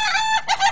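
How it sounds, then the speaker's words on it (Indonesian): A so-called laughing chicken crows loud and close in a cartoon, a single bright, wavering cackle-like crow with a brief dip midway, no voices over it. "Inilah namanya ayam ketawa."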